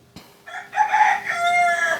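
A rooster gives one close, loud crow that rises and holds before trailing off, preceded by a brief thump against an otherwise quiet room.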